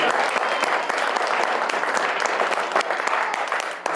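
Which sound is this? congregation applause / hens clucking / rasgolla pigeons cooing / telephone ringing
congregation applause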